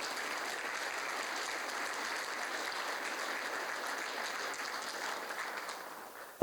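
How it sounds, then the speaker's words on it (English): An audience applauds steadily at an event on writing voluntary assisted dying law for the Northern Territory; a dense, even clapping sustains for about six seconds before thinning out, with one last sharp clap at the end. "I think a round of applause."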